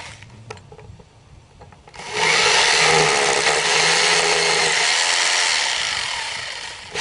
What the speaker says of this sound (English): and then just go ahead and drill the hole.